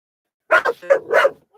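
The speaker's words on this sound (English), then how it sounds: "Ooh, she's being guard dog right now." A guard dog barks in several sharp, close bursts, with short pauses between them and no one talking over it.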